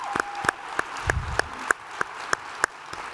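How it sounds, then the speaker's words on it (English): Applause at a leadership conference general session comes through as sparse, evenly spaced claps, about ten sharp hits at a slow steady rhythm over a quiet room. "Let's give all of our team a round of applause."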